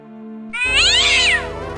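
A cat meows loudly in Indiana Jones and the Fate of Atlantis, a single drawn-out, rising and falling yowl over a low steady background hum.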